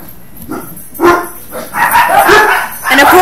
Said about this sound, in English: the dogs all bark